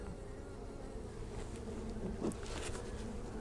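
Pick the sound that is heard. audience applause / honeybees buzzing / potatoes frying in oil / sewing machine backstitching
honeybees buzzing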